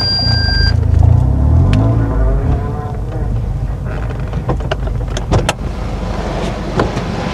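A 2017 third-generation facelift Toyota Vios engine hums steadily at close range as the car slowly reverses and moves forward, with a few mechanical clicks and knocks.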